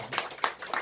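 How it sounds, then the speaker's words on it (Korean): A church congregation clapping during a Sunday worship service to welcome a newcomer, a brief burst of a few scattered hand claps, moderately close and loud. "일단 박수 한번 주세요, 여러분."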